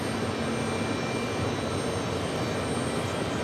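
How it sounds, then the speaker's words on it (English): A Neos Boeing 787 Dreamliner at New York's JFK Airport gives off a brief, steady jet engine rumble, a dense and unbroken roar over a few seconds. "The Neos Dreamliner."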